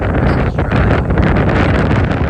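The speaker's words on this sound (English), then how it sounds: "So it's a little windy." Strong wind buffets the microphone on top of a concrete S-tile roof, a loud, continuous rumbling roar with no letup.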